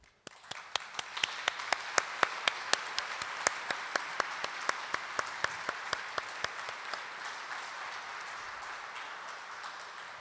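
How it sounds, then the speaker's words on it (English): Sustained audience applause for high school girls' speaking competition finalists in Minnesota, a dense wash of clapping with a few sharper individual claps standing out, steady and fairly distant throughout. "Now for some richly deserved applause for our Speaking Proudly finalists."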